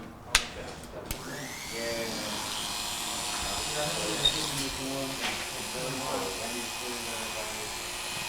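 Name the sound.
Oster electric hair clippers cutting hair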